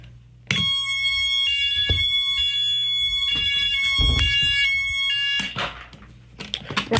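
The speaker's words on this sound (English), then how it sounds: "This one just sounds like a mini horn." A fire alarm horn system under test sounds a loud, repeating electronic horn in steady pulses, close and dominant for several seconds before cutting off into handling noise.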